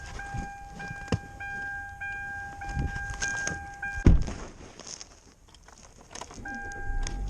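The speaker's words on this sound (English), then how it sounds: "I'm going to get in the car in a second." Getting into a car on a cold, windy day near an orchard: keys jangle, a sustained electronic tone chimes, and a solid door thunk lands midway, all close and without talk.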